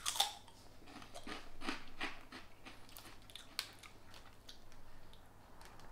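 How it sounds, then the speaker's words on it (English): Ring scissors snip open a Korean snack bag, a few crisp cutting clicks and plastic crinkles close by, fairly quiet with no voices. "Life made easy with the scissors on your rings."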